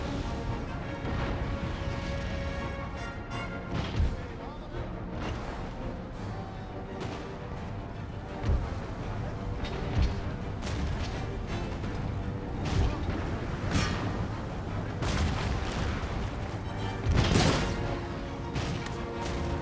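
Cannon and mortar fire from a Total War: Empire battle rumbles on without pause, with repeated booms and crashes over a dense, steady din of battle and music.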